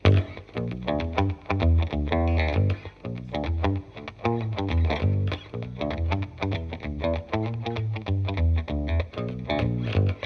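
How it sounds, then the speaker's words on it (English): A deep, low-pitched electric guitar tuned one octave below standard, with Fender Jaguar-style pickups, plays a busy riff with rapid plucked notes and a heavy bottom end, steady and without voices. "It's a normal tuning guitar, but all tuned one octave down"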